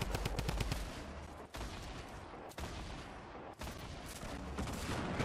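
Gunfire in the video game Fortnite comes as dense, rapid volleys of shots that are loud and continuous, broken only by a few brief gaps.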